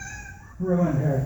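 A spoiled house cat lets out a clear, drawn-out meow close by, and a voice briefly speaks just before it.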